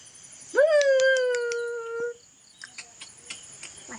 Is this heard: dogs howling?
yes